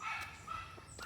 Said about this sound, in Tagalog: Pasensya na sa ingay ng aso namin.